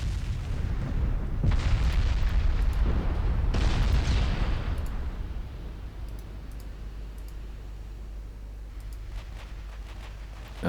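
Warship big guns fire in a 1925-era naval battle game: two loud booming salvos with rolling rumble, then a quieter fading roar punctuated by faint clicks, and no one speaking.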